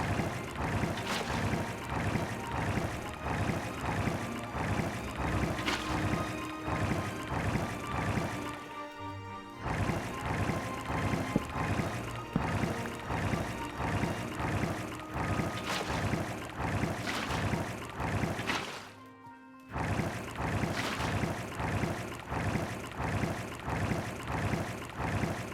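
Steady wind ambience from the Minecraft video game blows loudly and continuously, with a faint rhythmic pulsing and two short dips where the sound briefly drops out.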